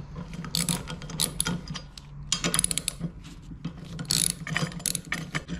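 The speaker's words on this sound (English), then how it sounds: "I'm gonna remove these two bolts and bracket" A hand ratchet clicks in quick, uneven bursts while bolts are taken off a Massimo MB200 mini-bike, close and clear in a quiet room with no talking.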